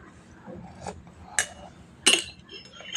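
A spoon clinks against a cup while someone drinks tea with it. A few bright, sharp taps stand out separately over low background murmur and faint voices.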